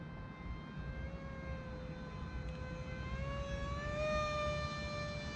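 An F-14 Tomcat model jet flies with added throttle, a steady whining engine tone that rises slightly in pitch as it goes, heard at moderate distance without talk.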